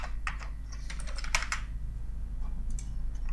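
Keys tapped on a computer keyboard while entering an Excel shortcut to insert columns, a quick run of close, crisp clicks in the first half-second to 1.5 seconds, then sparser taps over a low steady hum.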